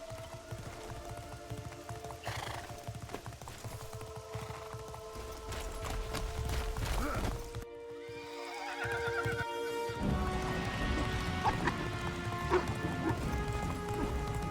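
Horse in Castlevania: Lords of Shadow neighing loudly amid galloping hooves and heavy crashes, with a brief silent gap midway before the galloping and whinnies resume under game music.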